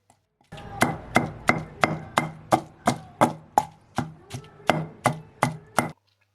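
Steady, even pounding of garlic and ginger into paste in a mortar, about a dozen sharp thuds in a regular rhythm with no talking.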